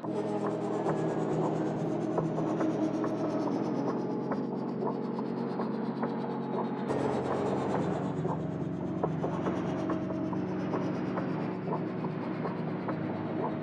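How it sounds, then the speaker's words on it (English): A synthesized texture from the CM5 synth's bad plane preset drones steadily like an aircraft, with a low hum and a slowly falling whine, broken by a brief shift midway and otherwise continuous. "It's coming from the CM5 synth, bad plane preset, and it really does sound like a plane."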